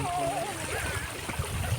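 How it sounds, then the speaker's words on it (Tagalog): Water splashes and gurgles at a swimming spot that takes both seawater and fresh water, a continuous close wash of splashing with a voice faintly present under it. "Ah, minsan maglakas ng tubig nila."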